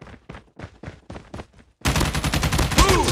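Rapid bursts of Call of Duty gunfire, opening with five or six evenly spaced loud shots, then erupting into dense continuous automatic fire with no break.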